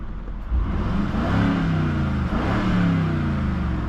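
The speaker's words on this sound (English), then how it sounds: "Sounds pretty awesome. Nothing like a twin turbo V8." The twin-turbo V8 of a 2022 Mercedes-Benz G 550 revs close by, a deep, loud engine roar that swells and holds over a few seconds.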